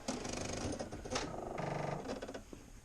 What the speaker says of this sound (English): So we'll go over to our sewing machine